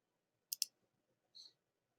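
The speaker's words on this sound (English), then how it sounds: "I'm going to click Start Class." A computer mouse gives a quick double click followed by a single softer click, close and crisp against near silence.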